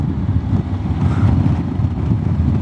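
A Honda X-ADV 750 scooter rides in standard mode, its quiet engine hum buried under loud, steady rushing wind noise on the microphone.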